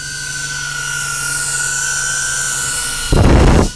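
A small Axisflying CineON C20 V2 cine drone flies nearby with a steady high-pitched propeller whine, holding an even tone and then swelling into a louder, rougher burst of rotor noise near the end.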